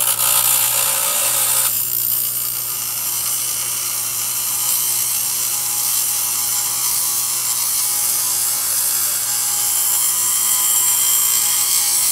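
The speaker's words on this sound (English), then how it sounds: "I'm actually going to use a really coarse steel grinder first just to get the tip right." A really coarse steel grinder working the tip of a knife, producing a continuous, harsh, high-pitched grinding hiss with a steady mechanical hum beneath, heard up close and without speech.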